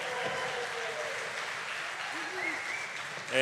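A faint, steady wash of audience clapping follows a chorus quartet's performance at an anniversary celebration, sustained throughout and heard from a distance.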